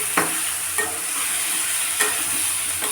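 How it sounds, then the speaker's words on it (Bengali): Spice masala for a deshi chicken curry sizzles and fries steadily in oil, with a few sharp scraping stirs of a spoon in the pan at intervals, close and fairly loud. "তো আমার মশলাটা তেল ছেড়ে দিয়েছি এবার আমি মাংসগুলো দিয়ে দেব"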